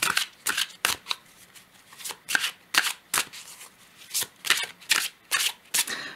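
Oracle cards are shuffled by hand during a card reading, in repeated short riffling bursts with brief pauses between them. Close and crisp, with no talking.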